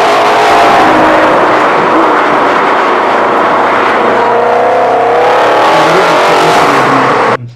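A Ford Mustang GT500 engine revs loudly and continuously for about seven seconds, its dense exhaust roar rising and falling in pitch before cutting off abruptly at the end.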